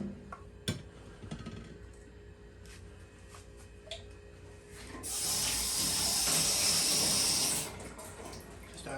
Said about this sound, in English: Just add a little bit of fresh water to that one.